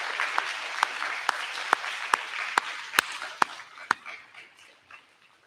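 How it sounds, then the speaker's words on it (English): A small audience at an eighth grade awards ceremony claps for teachers; a few sharp, distinct claps stand out over thinner scattered clapping that fades away toward the end. "another round of applause is totally appropriate for our teachers"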